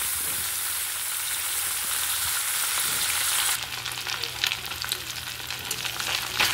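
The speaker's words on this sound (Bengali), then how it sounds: "কয়েকটা মাছ আমি এইভাবে ভেজে নেব।" Parshe fish, a small mullet, fries in hot oil for a Bengali mustard dish, with a steady, dense crackling sizzle that turns sharper and more spattering partway through.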